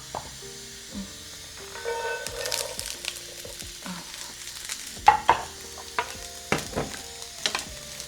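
Oxtail stir-fries in extra virgin avocado oil in a hot pan. The sizzle hisses at a moderate level, and sharp clatters of stirring and scraping keep breaking into it, coming closer together toward the end.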